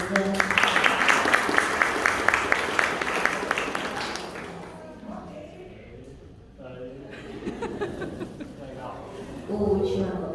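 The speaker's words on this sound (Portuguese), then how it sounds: "Palmas para Lívia." Crowd applause for a few seconds, mixed with cheering voices, fading into chatter and laughter, then a brief burst of clapping near the end.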